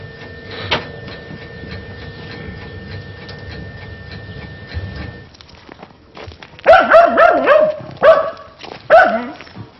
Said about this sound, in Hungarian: a kutya el van szabadulva, addig ne jöjjönek be, mert megharapja